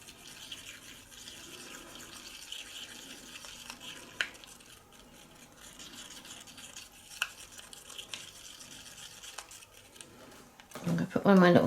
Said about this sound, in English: And then let's use that stick. Just mix that again really well.